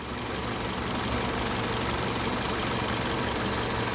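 Car engine idling in a workshop during coil-on-plug diagnostics, a loud, dense, steady rumble with a faint knocking texture and no pauses, no voices.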